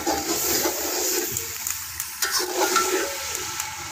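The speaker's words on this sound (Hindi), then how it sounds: "असी मसाले भुन लैने" Masala spices frying in a pan for meat curry, a steady close hiss and sizzle with faint stirring scrapes throughout.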